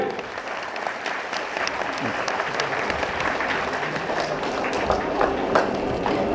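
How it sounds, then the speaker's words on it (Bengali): An audience claps steadily and loudly throughout, a dense, continuous round of applause from a crowd. "সবাই একটু করতালি, সবাই।"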